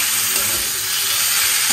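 Flat beans and chillies frying in a pan give off a loud, steady sizzling hiss up close, continuous through the brief moment with no voices.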